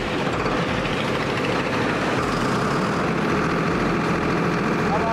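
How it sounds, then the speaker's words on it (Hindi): A Farmtrac 60 Powermaxx tractor engine runs steadily nearby, a loud continuous diesel rumble with a low throbbing drone. "इंजन को स्टार्ट करके अगर इंजन की साउंड की बात करूं तो वो भी मैं आपको दिखा देता हूं"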